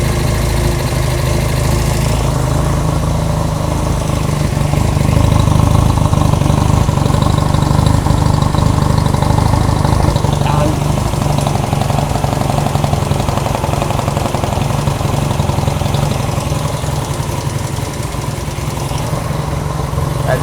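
Honda CB200 motorcycle engine with an aftermarket carburetor idling, a loud, close, steady mechanical putter with slight unevenness that holds for about twenty seconds.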